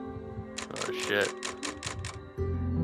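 A burst of rapid typewriter key clacks from the Resident Evil 4 (2005) video game, about seven sharp strikes in a quick run, with a voice talking over and around them and game ambience continuing afterward.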